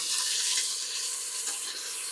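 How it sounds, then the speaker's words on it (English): Minced garlic sautéing in vegetable oil gives a steady, bright, close sizzle that holds evenly throughout with no pauses and no voices. "And I'm just going to saute that a little bit."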